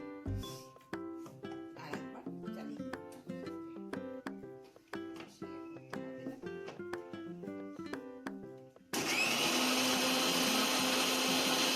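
An electric kitchen mixer grinds cauliflower leaves with garlic. It starts abruptly as a loud, steady whirring roar in the last few seconds, after a stretch of other rhythmic, tonal household sounds.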